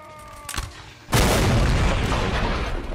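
A single heavy cannon blast from artillery in a Napoleonic Wars battle game booms suddenly and loudly, followed by a sustained rumbling roar, with a fainter thud just before it.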